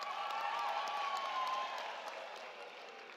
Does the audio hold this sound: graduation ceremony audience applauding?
yes